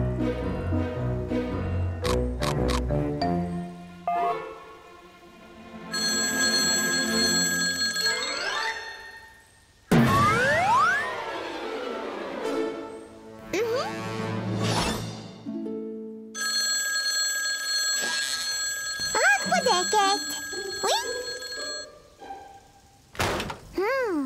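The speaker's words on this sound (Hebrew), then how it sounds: "אוי, טלפון היד!" A telephone rings repeatedly in the Masha and the Bear cartoon, bright trilling bursts set among musical score, swoops and thuds.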